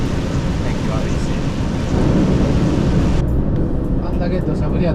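Heavy rain roars steadily outside a long-haul trailer truck on the Shin-Tomei expressway as a typhoon approaches, with a dull rumble throughout while someone talks over it.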